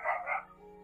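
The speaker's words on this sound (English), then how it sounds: "And that's my dog barking." A pet dog in the room barks twice in quick succession, fairly close and clear, then falls quiet as faint background hum remains during a Minecraft survival session.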